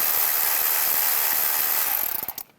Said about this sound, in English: loosen up this worm clamp right here